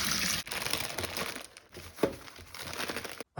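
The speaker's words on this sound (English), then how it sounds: "I put the peas in a plastic bag, sandwich bag" A plastic sandwich bag holding peas crinkles and rustles close to the microphone in busy, irregular bursts with brief pauses, fairly quiet overall.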